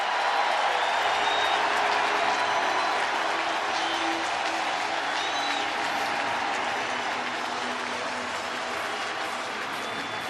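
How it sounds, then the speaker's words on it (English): Stadium crowd at a St. Louis Cardinals spring training game roaring and applauding after a home run to left, a dense sustained cheer that stays loud throughout and slowly eases toward the end. "Listen to this crowd."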